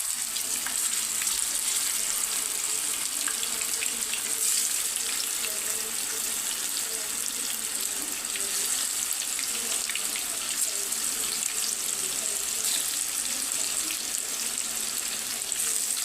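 Marinated fish pieces for Apollo fish deep frying in hot oil, a dense, even, continuous sizzle and hiss with no pauses, close and fairly loud throughout.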